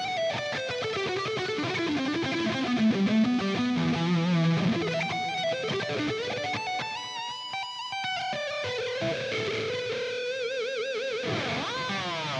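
A PRS David Grissom Tremolo electric guitar played through high-gain distortion, with sustained, saturated notes and bends that slide and waver with vibrato in a continuous lead line, loud and alone without talking.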